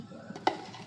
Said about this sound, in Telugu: మునగాకు మజ్జిగ చారుకి తాలింపు వేసుకుందాం